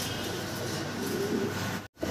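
Gribas pigeons, a tiger-coloured breed, give low soft coos that carry steadily for about two seconds, set against constant background noise and broken by a short moment of silence near the end.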